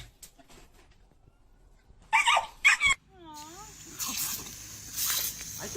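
A dog whimpers in high, wavering cries, then gives a few sharp barks nearby in a kitchen, with rustling and short bursts of background noise.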